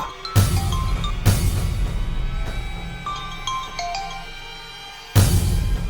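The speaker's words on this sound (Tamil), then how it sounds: "ஆண்டாள் எதுக்கு ஃபோன் பண்றா?" A mobile phone ringtone plays from a phone left on its charger in a home, sounding as a repeating melodic tone pattern in clear bursts with short gaps, moderately loud and alone with no talk.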